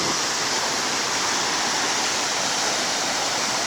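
A river waterfall on the Madola Ganga roars as a steady, dense wash of rushing water, loud and close, with no voices over it.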